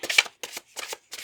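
Tarot cards are shuffled during a pick-a-card reading, three quick, close riffling bursts separated by brief silences.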